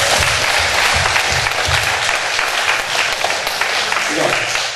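Congregation applauding at an evening summer revival meeting in a church, a dense steady wash of clapping throughout with a voice speaking over it.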